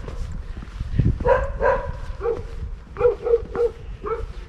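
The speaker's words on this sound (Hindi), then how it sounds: "ये तो हिंदी में भौंक रहे हैं" Several barks from dogs near a small house on the castle road in Berat, Albania, one pair of barks, then a quick run of four or five more, moderately close with faint background noise.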